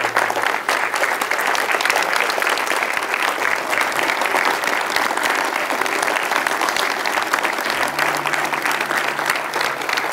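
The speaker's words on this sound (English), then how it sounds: "Just a round of applause to God." A church congregation claps together in a loud, steady round of applause that fills the whole stretch evenly, with no voices standing out.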